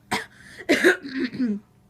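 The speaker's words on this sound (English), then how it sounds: "He coughed." Two or three sharp coughs close by, separated by brief pauses, with no talking.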